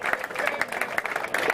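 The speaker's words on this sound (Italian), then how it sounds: "applausi e complimenti" Applause from the crowd at an amateur football awards gala, uneven bursts of clapping with light cheering, moderately loud and close, rising and dipping in short pulses.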